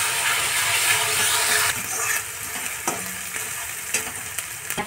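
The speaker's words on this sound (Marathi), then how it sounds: "आपण आलं लसणाची पेस्ट टाकून देऊया। 1 मिनिटासाठी त्याला फ्राय करून घेऊ।" Chopped onion and ginger-garlic paste frying in a hot pan for a vegetable paneer biryani, a loud continuous sizzle with occasional stirring scrapes and taps, no voices over it.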